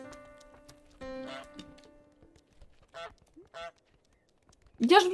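A goose honking in Untitled Goose Game, short bursts of honks near the middle and a louder squawk at the end, between stretches of quiet with scattered game sounds and some talk.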